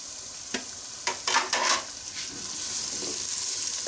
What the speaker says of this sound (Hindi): 5 मिनट तक अच्छी तरह से चिकन को और मसालों को भून लेंगे।